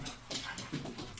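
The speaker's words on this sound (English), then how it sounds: "It's dogs again." Dogs whimpering and yipping in the background of a home setting, faint, uneven whines and short yelps over a soft murmur, with no clear speech.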